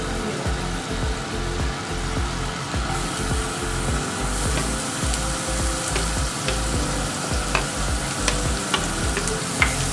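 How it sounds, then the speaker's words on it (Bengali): Chopped garlic fries in butter with a loud, continuous sizzle, accompanied by a low rumbling hum and light clicks of stirring near the end. "এটাকে হালকা করে ভেজে নেব, শুধু কাঁচা গন্ধ না আসা পর্যন্ত আমি ভাজবো"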